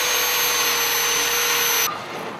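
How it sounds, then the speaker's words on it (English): An angle grinder fitted with an abrasive wedge wheel strips paint from bike frame tubing in a workshop, a loud steady high-pitched whine and rasp that cuts off sharply near the end, leaving quieter background noise. "this is just using an angle grinder with a special tool that is a whole series of abrasive wedges"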